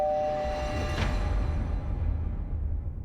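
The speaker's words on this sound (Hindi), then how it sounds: "लो घंटी भी बज गई" A doorbell chimes once over a steady low background hum, with a brief bright ring partway through.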